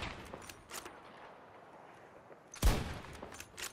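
Gunfire in Battlefield 2042, a sudden loud close blast followed by scattered quieter shots, with soft background game noise before it.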